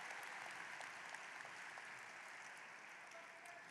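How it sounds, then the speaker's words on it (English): A high school graduation audience applauds, a broad, steady wash of clapping that sounds distant in a large venue and holds evenly throughout, with no voices over it. "Let's give that a round of applause."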